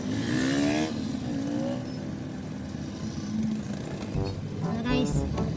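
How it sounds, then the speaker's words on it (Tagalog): Heavy road traffic drones steadily with car and motorcycle engines nearby, rising briefly as vehicles rev past, while someone talks over it. "Sobrang traffic."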